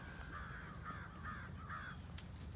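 Large birds on a farm call in a run of four harsh, drawn-out cries with brief gaps between them. They sound moderately distant over a steady low background rumble.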